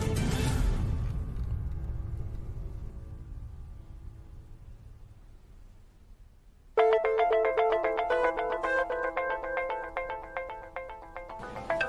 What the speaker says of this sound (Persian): ببخشید گوشی خانم دکتر زنگ میزنه، مونده بود تو آمبولانس